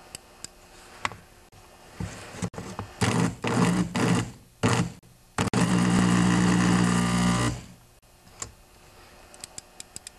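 A worn Tecumseh snowblower electric starter motor is run in bursts on the bench, whirring and ticking unevenly through several short pulses before one longer sustained spin, then stopping with a few faint clicks.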